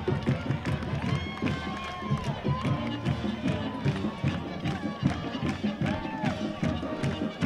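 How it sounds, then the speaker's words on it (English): At a high school football game between Highland and Mountain Pointe, the home crowd cheers and rejoices after a touchdown, a busy, sustained roar of voices with scattered shouts and a band playing underneath. "the Hawks are finally on the board as you hear this crowd rejoice"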